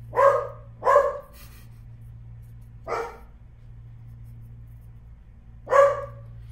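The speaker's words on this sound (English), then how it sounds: "So you get to hear Pip bark." A house dog barks in loud, close single barks, two quick ones, then a gap and two more spaced out, over a faint constant hum.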